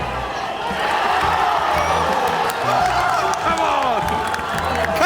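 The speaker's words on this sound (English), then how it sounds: "Are they shouting, we want sausage roll?" A large Real Madrid football crowd in a stadium shouts and chants continuously, a dense, loud roar of many voices with whoops and cheering rising and falling throughout.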